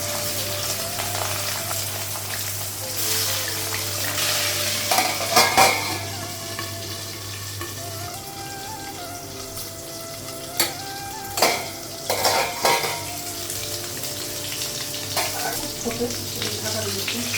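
Fish roe sizzling and frying in a pan, stirred with a utensil that scrapes and clinks against the metal in bursts over a steady crackling hiss.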